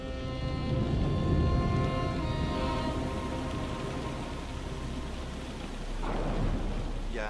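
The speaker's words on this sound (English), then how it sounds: "A huge storm breaks out." A thunderstorm with steady rain hisses throughout, with a heavy rolling rumble of thunder over the first few seconds and a second swell of rumble near the end.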